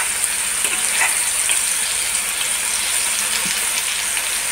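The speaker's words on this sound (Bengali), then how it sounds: "আর এদিকে পটল ভাজা হচ্ছে।" Pointed gourd (potol) frying in a pan gives a steady, close sizzle with a constant hiss from start to finish and no voices over it.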